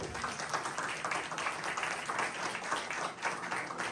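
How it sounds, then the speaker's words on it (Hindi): Quiet applause from a church congregation clapping for Jesus during a Christmas service, a soft, steady patter of many hands, somewhat distant. "उस यीशु के लिए जोरदार तालियां।"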